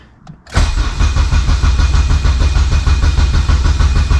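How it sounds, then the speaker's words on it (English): Car engine cold-starting on E85 fuel with a full exhaust, a brief crank then a sudden loud roar settling into a deep, rumbling, steady idle close by. "E85 cold start for the boys. This thing does have full exhaust on it."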